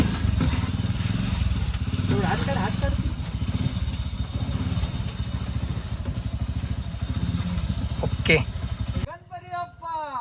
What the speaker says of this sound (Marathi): रिक्षाला स्टार्ट मारलेली आहे